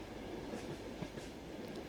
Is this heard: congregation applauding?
no